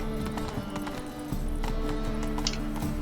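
Roach, a horse in The Witcher III, galloping with steady clip-clop hoofbeats close by, rhythmic and moderately loud over a tonal background, with a brief whinny.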